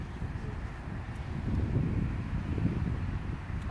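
Strong wind buffets the microphone at a swampy fishing spot on a pond, a steady low rumbling roar that swells slightly midway, with no voices.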